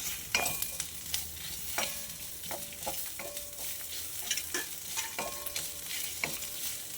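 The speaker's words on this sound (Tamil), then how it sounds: "இது வதக்கிறது பாருங்கள் ரொம்ப வதக்க வேண்டியதில்லை" Sizzling masala sautéing in a pan with repeated stirring scrapes and clinks of a spoon against metal, steady hiss throughout, close by.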